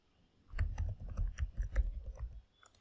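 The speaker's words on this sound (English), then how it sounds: "type XAMPP and press tab and hit enter" Rapid keystrokes on a computer keyboard, a burst of close, crisp clicks over about two seconds, ending with a couple of firmer key presses, no voice.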